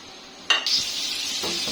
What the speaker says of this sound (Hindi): ऑयल गर्म हो गया है, इसमें मैं ये 2 बारीक बारीक कटे हुए प्याज डाल दूंगी।